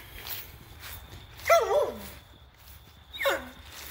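A dog tied up on a leash in a yard gives a couple of sharp, close barks with a whiny, yelping edge, separated by a pause.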